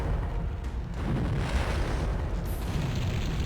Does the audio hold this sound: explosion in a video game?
yes